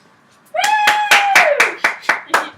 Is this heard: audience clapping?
yes